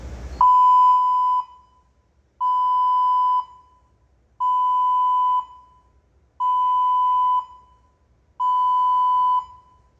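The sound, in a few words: combustible gas alarm beeping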